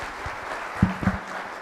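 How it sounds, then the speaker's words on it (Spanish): Audience applause at a formal event on justice in the State of Mexico, steady clapping from a crowd with a couple of voices breaking through briefly. "con un aplauso, y son tan amables"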